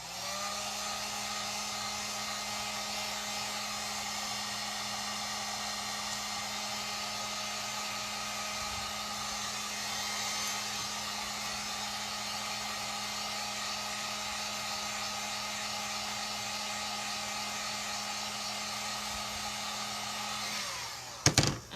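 A hair dryer blows over a face mask holder craft, a steady, fairly loud airflow hum that runs unbroken for about twenty seconds before a brief clunk as it switches off, with no talk.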